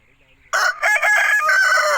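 An aseel rooster crows once, loud and close, a long strained call that begins after a short quiet lead-in and carries for about a second and a half with no talking over it.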